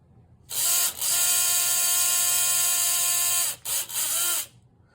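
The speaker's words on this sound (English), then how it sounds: "It's got a lot of torque in this motor." A small electric motor in a scratch-built model Indy car whines steadily at high pitch for several seconds, briefly cutting out twice near the end before stopping, close by.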